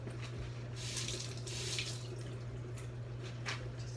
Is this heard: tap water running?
yes